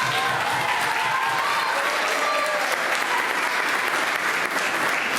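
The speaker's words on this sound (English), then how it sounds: "So a round of applause for our musicians." Audience applause for the musicians at a 5th grade school band concert: dense, sustained clapping from a full hall, even and continuous, with faint voices mixed in.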